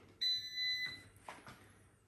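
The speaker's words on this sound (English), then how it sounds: "Okay, so we're going to start the air fryer up." An air fryer being switched on gives two clear high electronic beeps, a long tone followed by a shorter one, then a couple of soft button clicks in a quiet kitchen.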